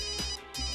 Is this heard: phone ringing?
yes